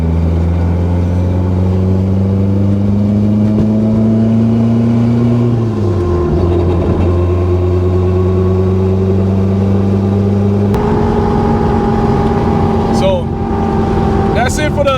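Toyota Corolla AE86 street and track car with a turbocharged 4AGE engine pulls through the gears, a loud droning engine note rising, dropping at a shift and climbing again, with people talking inside the car.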